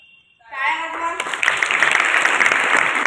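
Applause for a student at a school event, as a roomful of children bursts into dense, sustained clapping right after a brief voice, loud and close.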